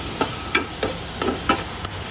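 Shrimp fry in a wok for a shrimp and okra dish, with a spatula scraping and stirring in about five evenly spaced strokes over a soft, steady sizzle close by.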